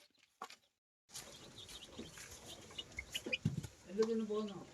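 Chicks in a coop cluck and peep close by in bursts, with rustling movement around them and a brief voice early on.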